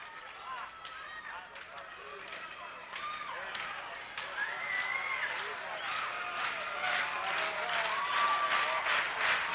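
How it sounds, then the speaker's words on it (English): Wildcat basketball fans applaud their team during a 1988 high school district final, a steady wash of crowd clapping that swells louder in the second half, under a commentator's voice and sharp court taps. "the Wildcat fans, the Wildcat faithful, begin to applaud their team"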